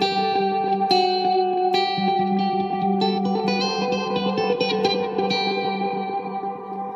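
Electric guitar played through a Boss DD-20 delay pedal, sustained notes and picked chords trailing into dense repeating echoes that smear together in a steady, loud wash.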